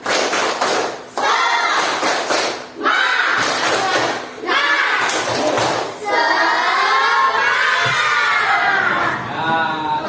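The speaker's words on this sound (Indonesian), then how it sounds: "Tepuk semangat." A classroom of students performs a rhythmic spirit clap, bursts of clapping and thumps in repeated rounds alternating with loud children's shouting and cheering, close and energetic, then dissolving into excited crowd chatter.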